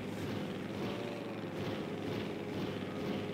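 A group of planes flying in a video game, heard as a steady, loud engine drone that hums on without a break and with no voices over it.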